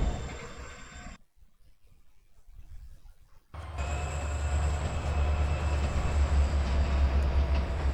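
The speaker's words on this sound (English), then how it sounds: "Alright, let the train coast along." A train runs in a railroad operating video game, a continuous mechanical rumble with rolling wheel noise. It drops to a quiet stretch before swelling back to a loud, steady roar.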